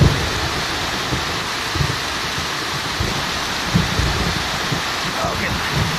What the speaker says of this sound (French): Et il y a un bel orage.